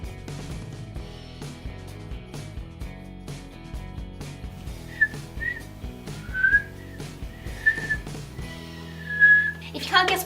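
A person whistles the melody of a song over a steady musical backing, the whistled tune clear and fairly close, rising and sliding through several phrases.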